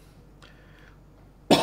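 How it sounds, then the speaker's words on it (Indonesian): A single sharp, loud cough bursts out near the end after a quiet stretch, close and harsh. "Maaf masih batuk-batuk."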